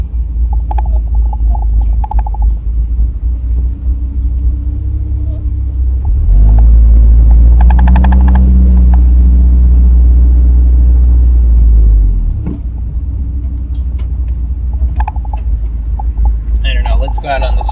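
A supercharged 22RE Toyota 4Runner rolls around a parking lot with a steady low engine rumble, which swells louder and deeper for several seconds under acceleration and then settles back to idle.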